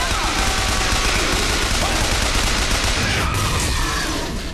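Sustained enemy gunfire in Bioshock Infinite, a dense, continuous rattle of loud shots filling the whole stretch with no pause, fading slightly near the end.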